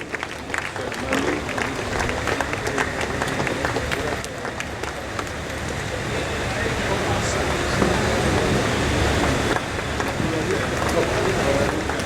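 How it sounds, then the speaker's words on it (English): Applause from an audience at a cultural festival in Mumbai, a long wash of clapping mixed with crowd noise and background chatter, holding at a steady level throughout. "Huge round of applause, ladies and gentlemen, for our editorial team headed by Ms. Smita Pagnis."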